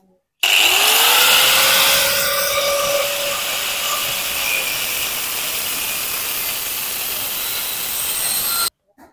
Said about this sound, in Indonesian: Langkah pertama kita potong menggunakan gerinda potong.